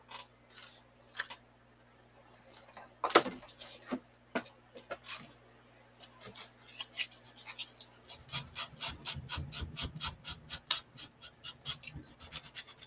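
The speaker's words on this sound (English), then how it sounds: "so I'm going to rough up. Where's that sandpaper?" Sandpaper roughing up a surface, heard as scattered short scratchy rasps, some sharp and close, then a denser run of rubbing strokes toward the end over a low steady hum.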